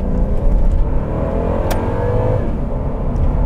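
A Mercedes-Benz C126 560 SEC, an 80s coupe, accelerating on the road, heard from inside as a deep continuous engine rumble and whir that builds steadily and stays loud throughout.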